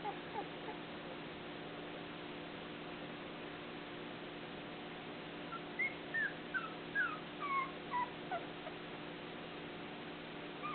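A puppy whimpers in a series of short, high, wavering cries clustered over several seconds, faint against steady background hiss and hum.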